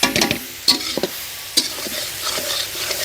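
Mutton chusta being stirred with oil and half-ground dried chillies and spices, close scraping strokes of a spatula against the pan over a soft sizzle, several sharp clinks spaced unevenly.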